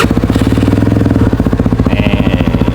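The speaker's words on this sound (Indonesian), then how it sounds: "cek sound knalpot Enzo Performance tipe Adventure" QJ Tourino 250DX motorcycle fitted with an Enzo Performance Adventure exhaust idling close by, a steady low throbbing putter with an even pulsing rhythm and no talk.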